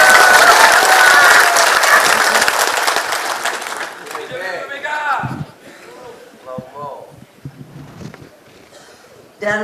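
Loud applause from an audience at a party meeting fills the first seconds, then thins and fades as a speaker's voice takes over, with scattered claps and crowd murmur beneath.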